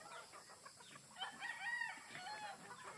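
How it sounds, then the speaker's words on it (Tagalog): Chickens in a hut at dusk taking their evening feed, a faint, distant chorus of clucking and soft calls rising and falling steadily with no talk. "At dahil medyo dumidilim na, nagsimula ng maghapunan ang mga manok sa kubo."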